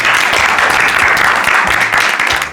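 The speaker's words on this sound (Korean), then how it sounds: "일단 박수 한번 치고 가실까요?" A small group applauds indoors at a channel's third-anniversary celebration, loud, close and steady clapping filling the whole moment without talk.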